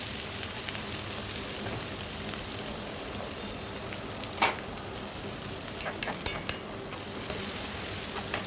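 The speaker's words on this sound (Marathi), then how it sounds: "आता आपण ह्याच्यात मिरच्या, शेंगदाणे, कांदा, कढीपत्ता हे सगळं व्यवस्थित परतवून घेऊया." Chillies, peanuts, onion and curry leaves frying in a pan with a steady, close, crackling sizzle, broken by a few sharper pops and spatters.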